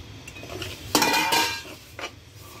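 Sesame seeds and cardamom powder are stirred into melted jaggery and sugar in a pan for til patti, a few scraping clanks of a spoon against metal over a faint background hiss.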